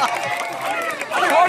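Crowd clapping at an Odia community weekend game event in New Delhi's Defence area, a steady dense patter of many hands under lively voices and shouting throughout.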